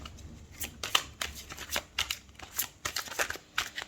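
Tarot cards shuffled and drawn for a full-moon reading, giving repeated crisp riffling and slapping bursts at an irregular rhythm, close and fairly loud, with no talking.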